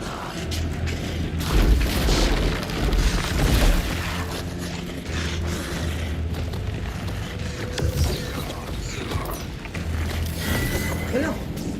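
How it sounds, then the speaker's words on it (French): A shotgun is slowly reloaded in the video game Alan Wake 2, with a series of mechanical clicks, creaks and ratcheting clacks alongside low booming thuds, all close and moderately loud. "Là, t'as la recharge, elle met 10 ans rechargée à fusil."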